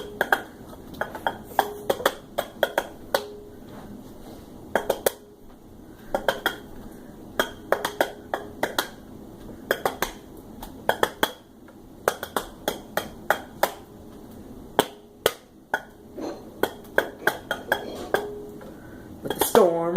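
Dishes and a metal frying pan clatter and clink in quick irregular bursts, close and sharp, with brief pauses between clusters of knocks.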